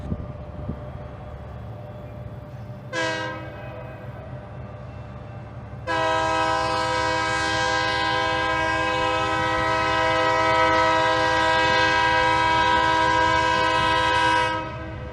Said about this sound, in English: With the grain train out of the way and their switching complete, the BNSF-powered local job departs